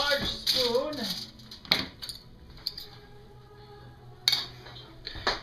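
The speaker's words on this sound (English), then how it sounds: "The large spoon, start dolloping out portions." Metal spoon clinks and scrapes while dolloping out portions of fast-setting divinity candy, a few sharp taps spaced apart, with a voice talking in between.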